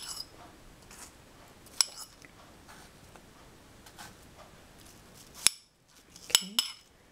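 A small fork clinks against a dish while pears and tea are prepared. Sparse, light metallic taps and clinks come up close over a quiet background, with a short cluster near the end.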